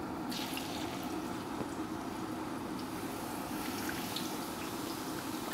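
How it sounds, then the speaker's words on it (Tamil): Potato chips frying in hot oil, a large home-style batch, giving a steady, dense sizzle and crackle that holds evenly throughout with no voices. "இப்போ எண்ணெய் நல்லா சூடாகிடுச்சு. நம்ம சூடானதுக்கப்புறம் இந்த சிப்ஸை போட்டு"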